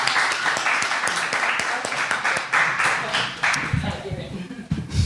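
Audience applause at a live podcast recording, clapping and scattered cheers that thin out toward the end while voices talk over it.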